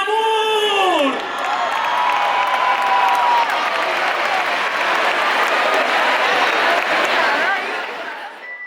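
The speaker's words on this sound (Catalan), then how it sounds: "Fort aplaudiment" A large concert crowd roars with applause, cheers and whoops for a singer at her Primavera Pop debut, a loud, sustained wall of clapping and shouting following a rising vocal flourish, fading slightly at the end.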